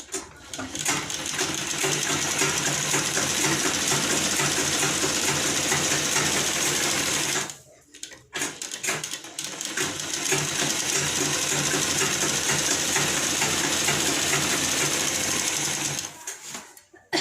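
A sewing machine runs a long, steady rattling stitch through a blouse lining. It stops briefly partway through, then runs again at a constant near, loud pace with no talk.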